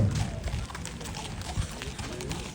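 Franches-Montagnes horses walk past at a market horse presentation in Toucy, their hooves clopping in an uneven rhythm over a murmuring crowd and background voices.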